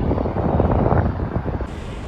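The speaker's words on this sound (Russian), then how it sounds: "Сегодня ветреная погода." Wind buffeting a microphone outdoors on a windy day during urban street fishing, a continuous loud rumbling roar that fills the whole moment with gusty fluctuations and no speech.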